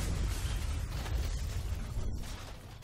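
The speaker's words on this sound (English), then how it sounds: "Was that a Michael Bay explosion?" An explosion in the video game Goat Simulator booms loud and dense for about three seconds, a broad low rumble that fades slightly toward the end with no voices over it.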